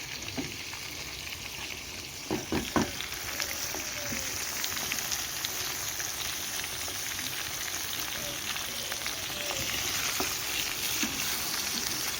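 Chicken sizzles and fries steadily in a pan as garlic paste is added, with a few sharp spatters and stirring clatters early on under continuous loud crackling.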